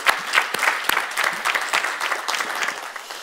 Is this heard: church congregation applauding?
yes